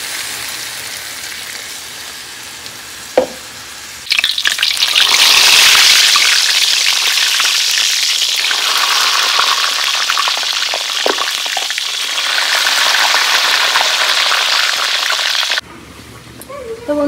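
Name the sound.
water added to vegetables sizzling in a frying pan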